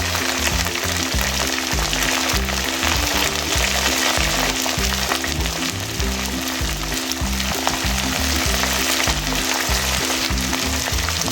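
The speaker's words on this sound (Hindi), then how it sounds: "ये टमाटरों को प्याज के अंदर अच्छी तरह भून लेंगे।" Tomatoes and ginger-garlic paste fry with browned onions for restaurant-style chickpea curry, a loud, steady, close sizzle with faint stirring and no talking.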